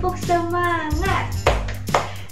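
Children in a second-grade primary class clap their hands in a rhythmic cheer: a few sharp, close claps mixed with voices chanting and speaking.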